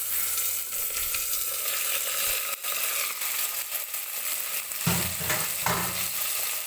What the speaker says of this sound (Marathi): तर आता मी याच्यामध्ये टाकून घेणार आहे धुवून घेतलेलं हे मटण.